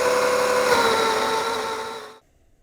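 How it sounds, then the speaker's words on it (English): Coffee grinder working 25 grams of beans at a coarse setting for a Hario V60 pour-over, a loud steady whirring grind lasting about two seconds before stopping abruptly. "I'm going to grind them at a coarse grind setting"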